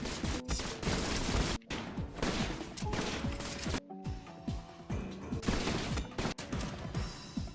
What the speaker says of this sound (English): Just kind of gunshots happening.